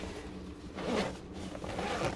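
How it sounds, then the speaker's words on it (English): Zippers on storage bags holding coffee supplies are pulled open inside a camper van, two or three quick close rasping zips, quiet with no talking. "So they all zip open."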